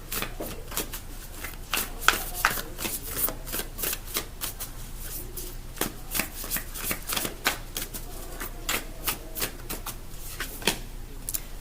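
A deck of tarot cards being shuffled up close: a continuous run of soft, papery riffles and slaps in an irregular rhythm, fairly quiet and with no voices.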